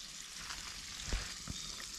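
Soft, steady sizzling of food frying in oil, faint and continuous, with a couple of light knocks.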